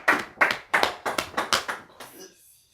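A church congregation claps in a steady rhythm of about seven sharp bursts acclaiming the Lord, loud and close, then the clapping fades out.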